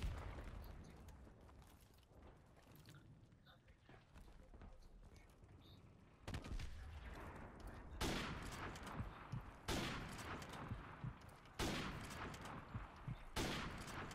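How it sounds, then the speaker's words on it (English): Airstrike in Call of Duty 4 lands as a run of loud explosive blasts and crackling bursts, the biggest hits coming in the second half, over a busy stretch of scattered game gunfire. "I called the airstrike in."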